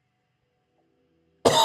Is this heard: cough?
yes